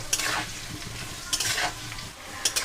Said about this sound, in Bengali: হলুদ গুঁড়ো দিয়ে খুব ভালো করে আলুটা ভেজে তুলে রাখবো